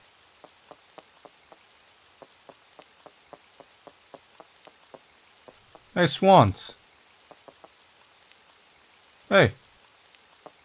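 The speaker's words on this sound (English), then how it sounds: "It's starting to rain." Steady light rain patters through the dark forest area of the game Pocket Mirror, a soft, even wash with faint regular ticks, while someone speaks briefly over it and a sharp thud lands near the end.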